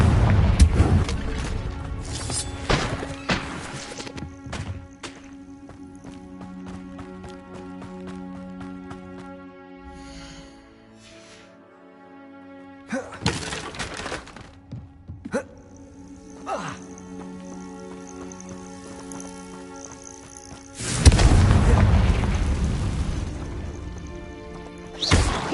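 Spells like Bombarda and Confringo detonate in the Hogwarts Legacy video game on PS5, heavy booming blasts and crashes arriving in several loud bursts separated by quieter stretches of ringing, tonal game sound, the last blast big and sustained.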